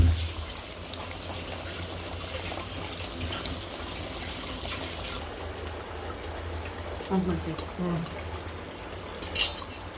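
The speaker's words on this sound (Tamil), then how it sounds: "தண்ணி ஊற்றுறேன்" Water poured into a cooking pot of potato masala in a home kitchen, with utensil clinks and a steady trickle under low background voices, a few sharper metallic knocks near the end.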